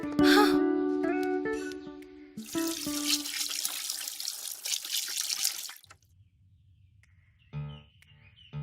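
Water gushes steadily from a shower, loud and close for several seconds before cutting off, leaving a faint low hum and a few brief clinks near the end.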